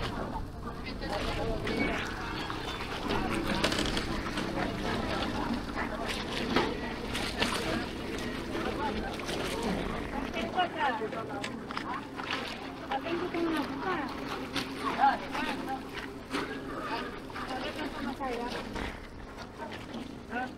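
A passenger bangka comes in toward shore in a rural Philippine province, its engine and water churning as a steady broadband wash under continuous nearby talking.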